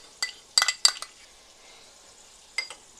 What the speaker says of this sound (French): je mélange tous mes ingrédients, le whisky, le paprika fumé ou l'assemblage cajun, la sauce barbecue